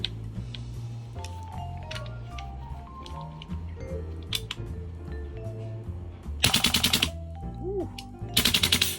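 An airsoft gun fitted with an Archwick Type A trigger box fires on full auto in two close, loud rattling bursts after a stretch of quieter mechanical clicks and handling noise.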